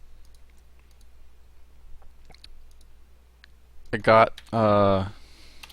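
Typing on a computer keyboard while coding: sparse, faint, quiet key clicks scattered over a near-silent background, followed by a short burst of nearby speech.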